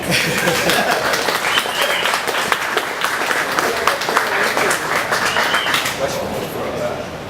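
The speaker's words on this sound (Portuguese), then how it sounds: "Palmas para ele." Applause at a humor contest event on the São Paulo coast: a dense, loud crowd clapping continuously throughout, with scattered voices and chuckles mixed in.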